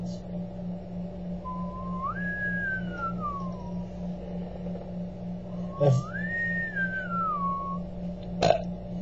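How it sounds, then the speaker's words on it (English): Someone whistles two slow, rising-and-falling notes with a pause between, over a low steady hum and a couple of soft knocks. "trying to whistle the tune to Star Trek"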